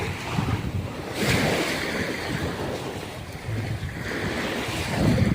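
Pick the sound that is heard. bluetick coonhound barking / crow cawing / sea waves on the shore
sea waves on the shore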